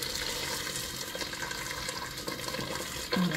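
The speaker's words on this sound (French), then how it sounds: "Je vais rajouter de l'eau chaude de préférence." Hot water pours into a cooking pot of potatoes, olives and minced meat, a steady close splashing stream lasting a few seconds with a brief louder gush at the end.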